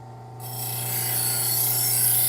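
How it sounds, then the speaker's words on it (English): A kitchen knife is rubbed back and forth against a spinning Scotch-Brite wheel to knock off a burr, giving a steady, loud abrasive rasp over a constant motor hum, with no one talking. "we use the Scotch-Brite back and forth just to get rid of any large burr that's on there"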